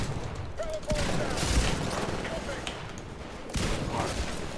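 Shotgun blasts in a first-person shooter with Titans, rapid overlapping bursts of gunfire that stay loud and busy throughout, with distant booms and faint voices in the background.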